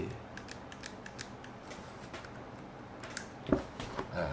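Small dry clicks from the safety lever of a Smith & Wesson M&P9C compact pistol being worked, faint and scattered, with a sharper click near the end over a quiet room.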